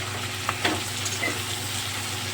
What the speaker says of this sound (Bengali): তো তার জন্য এখন একটু ভালো করে ভেজে নেব।